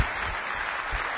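A large crowd at an Apple TV movie rentals presentation claps steadily in a dense, continuous wash of applause that fills the room, with faint voices mixed in.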